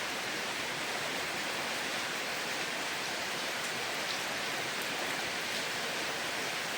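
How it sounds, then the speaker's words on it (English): Heavy monsoon rain pouring down in a jungle area, a dense, steady hiss of rainfall with no breaks, fairly quiet and continuous with no voices. "It's raining heavily. It's a monsoon, it's a typhoon, everything is here."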